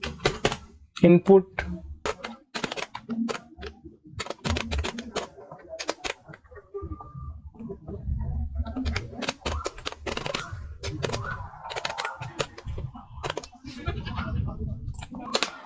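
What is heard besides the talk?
typing on a computer keyboard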